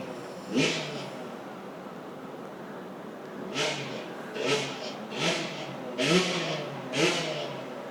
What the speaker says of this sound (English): That's a motorbike.